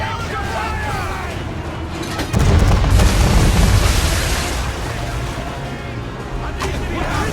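Heavy ship cannon fire during a naval battle in Assassin's Creed 3, a deep booming blast around the middle followed by a rumbling roar over a wash of sea and crew noise, with faint voices under it.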